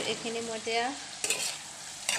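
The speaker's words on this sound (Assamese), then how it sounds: "ল' ফ্লেমতে ভাজি থাকিম আৰু মাজে মাজে আপোনালোকে হিলাই থাকিব" Long beans with turmeric, red chilli and cumin fry in a pan, stirred with scraping bursts over a soft sizzle while a voice speaks briefly at the start.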